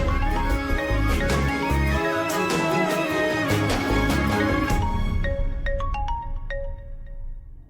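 A mobile phone ringtone plays a loud, busy melody in a Marathi TV drama scene, then thins to a few sparse chiming notes as it fades near the end.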